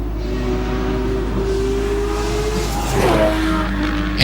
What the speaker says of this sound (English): Andrew Campbell now absolutely flying up the hill in the S14.